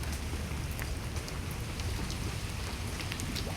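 Soft, steady rain from southwest monsoon weather after a typhoon, in Manila, a steady patter with a constant broadband hiss and occasional faint drops, no voices, continuous throughout.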